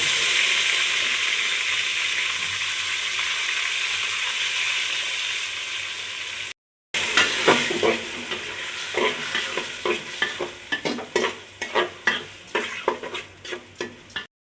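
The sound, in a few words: pulao rice being fried and stirred in a pan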